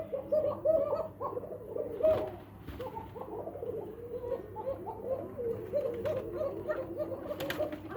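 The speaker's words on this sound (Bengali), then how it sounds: "দেখুন সব কবুতর এই যে গলা কষা দেখুন" Pigeons, including Koka and Cobra-type birds, coo steadily nearby, overlapping throaty calls forming a continuous moderate chorus with faint background voices.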